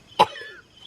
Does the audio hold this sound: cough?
yes